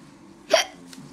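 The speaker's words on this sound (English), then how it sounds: "I hiccup all the time." A single sharp hiccup comes from a woman 24 weeks pregnant, followed by a faint softer second one in a quiet room.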